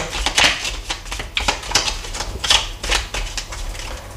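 A deck of oracle cards being cut and handled, a series of close, crisp papery flicks and taps at an irregular rhythm, with no talk over them.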